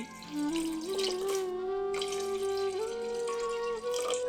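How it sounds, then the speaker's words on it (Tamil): Water pours steadily into a metal cooking pot on the stove holding goat intestines, the pitch rising gradually as it fills, loud and close. "இப்ப குடலை அடுப்புல வச்சு 2 சொம்பு தண்ணி ஊத்தி"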